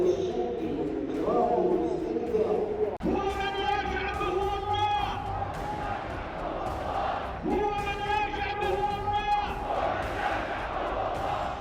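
A huge crowd gathered after Friday prayers at the Al Saleh mosque in Sanaa, Yemen, chants and shouts in unison, with rising, sustained roars of many voices filling the space continuously.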